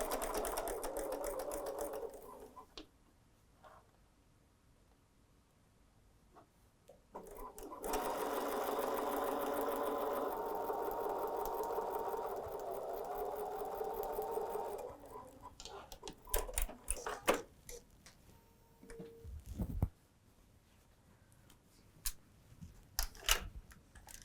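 A sewing machine stitches a quarter-inch seam on a log cabin quilt block for a small table runner, running steadily in two sustained bursts, then stopping and restarting in short uneven spurts with clicks and handling sounds between.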